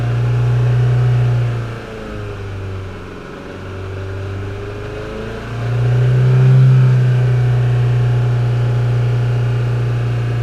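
A Land Rover Freelander engine idles and is revved twice, its steady low hum swelling and falling back, heard up close and alone.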